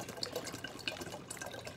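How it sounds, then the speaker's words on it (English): Bottled water glugging and splashing as it pours into a 4-quart drink dispenser, a short close burst of bubbling and trickling. "I'm putting in the last couple of bottles of water"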